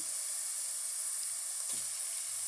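Cooked rice, with a few beans and carrots, sizzles in a hot frying pan for fried rice: a steady, bright hiss with a brief stirring scrape near the end.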